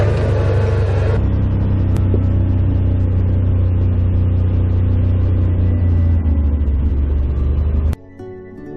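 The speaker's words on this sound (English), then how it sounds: "I put it in low range and just idle down here" Side-by-side UTV engine idling in low range while creeping down steep hills, a loud steady mid-pitched rumble that holds for several seconds, shifts slightly in tone, then drops off abruptly near the end.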